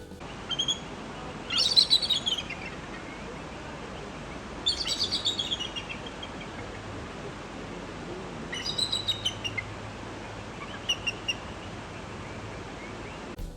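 Bursts of high, chattering bald eagle calls recur every few seconds outdoors in Alaska, moderately loud, with steady background hiss between them.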